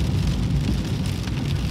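Steady rain in windy weather, heard around a moving car: a continuous dense hiss and patter that stays constant and fairly loud for the whole short stretch, with no voices.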